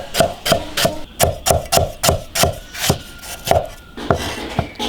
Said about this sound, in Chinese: 切点生姜